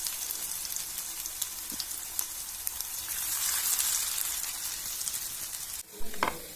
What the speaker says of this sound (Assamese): এতিয়া মই ৰঙচুৱা হোৱালৈকে পকৰিখিনি ভাজিব দিম